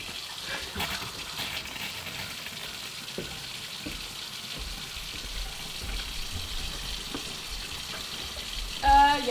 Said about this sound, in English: Evie, you're gonna get water shower now.